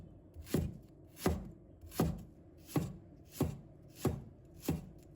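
A knife chops a length of scallion into slices on a cutting board, seven crisp evenly spaced strokes landing in a steady rhythm, close and clear with no talking.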